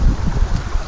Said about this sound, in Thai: โอ้ลมมาเลยอ่ะ